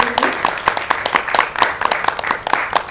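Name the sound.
audience applause for writer Mohammad Anwar Baig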